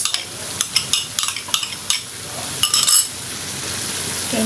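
Tomato paste mixture being stirred in a pan, a spoon clinking and scraping against the metal in a quick irregular series of taps over a soft background sizzle.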